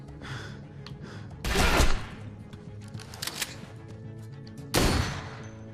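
Gunshots from The Walking Dead: A New Frontier video game, two loud sharp bursts a few seconds apart over quiet game ambience.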